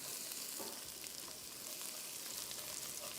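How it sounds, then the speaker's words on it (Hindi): Chopped garlic fries in a little oil for egg fried rice, a soft, even sizzle heard close but quiet, with no talking. "सबसे पहले आ जाएगा इसमें लहसुन चॉप किया हुआ, इसको थोड़ा सा किया फ्राई"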